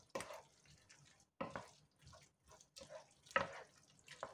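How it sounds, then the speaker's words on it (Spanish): A spoon stirs lentils in a pot while an Canary Islands-style lentil sandwich filling is made, giving a few wet, scraping bursts at irregular intervals, close and moderately quiet, with no talking. "Terminamos de revolver esto."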